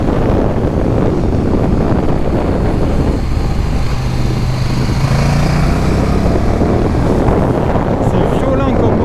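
A KTM 1290 Super Duke motorcycle accelerates, its engine note rising and straining under heavy wind buffeting on the microphone. A voice is faintly present beneath the roar.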